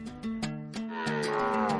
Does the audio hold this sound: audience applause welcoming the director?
no